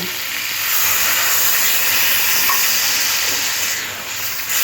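Steady, loud sizzle and hiss of water hitting a hot pan of frying vegetables for a Bengali fish curry with ridge gourd, potato and pointed gourd, with no talk and the sizzle easing slightly toward the end.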